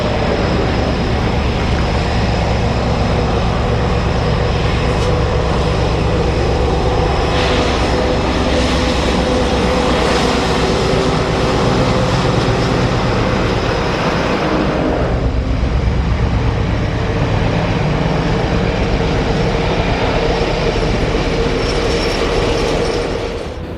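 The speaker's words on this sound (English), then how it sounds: "60099 with a typically long tank train for a tug in August 2013" British diesel locomotive 60099 hauls a long tank train in Derbyshire, a loud, sustained engine rumble joined by continuous rhythmic clickety-clack and clanking of the wagons rolling past.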